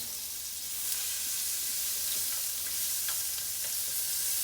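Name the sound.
stir-frying onions and chicken in a hot wok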